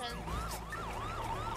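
Wailing police car siren in the GTA NoPixel role-play game, a loud rising and falling sweep repeating steadily over a low engine hum.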